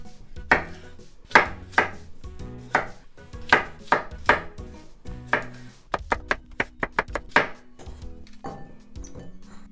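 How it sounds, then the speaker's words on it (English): A knife chops cabbage into bite-sized pieces on a board. The close, crisp cuts come in irregular bursts, then speed into a quick run of evenly spaced strokes before slowing again. "I'm just gonna cut into bite-sized pieces."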